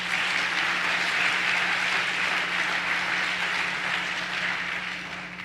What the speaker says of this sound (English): Let's give Diane another round of applause.